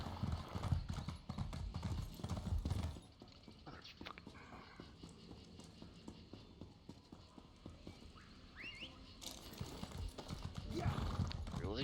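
Horse hooves in the video game Elder Scrolls Online clip-clop in a steady, rapid rhythm, louder at first and then softer, with a brief whinny partway through.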